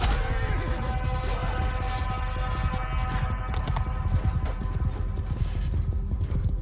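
Horses galloping in the video game Mount & Blade II: Bannerlord, a dense, steady drum of many hooves clattering continuously at close range, with an occasional whinny rising over the rumble of a battle.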